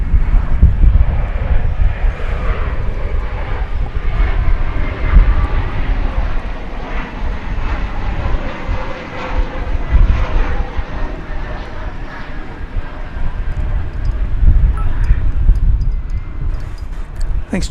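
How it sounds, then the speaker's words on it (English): An Embraer 175 jet airliner at DFW Airport gives a loud, sustained roar that rises and falls for about eighteen seconds, with wind buffeting on the microphone. "It's an Embraer 175."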